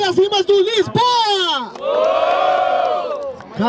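A rap battle audience erupts in a loud, sustained cheer and shouting as a host calls for noise for a rapper's rhymes; the host's voice leads in before the crowd swells.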